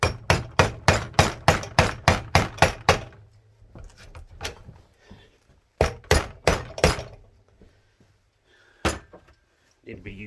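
Rapid series of sharp metallic hammer blows on very hot steel while removing a Mopar distributor shaft, about a dozen in quick rhythm, then a pause and another burst of strikes, with a few isolated hits.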